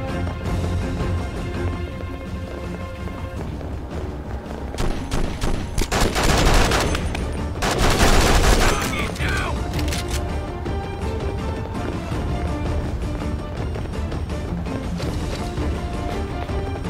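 Bursts of rapid gunfire and crashing impacts fill a Conflict: Desert Storm II battle, a loud continuous barrage with heavier blasts in the middle.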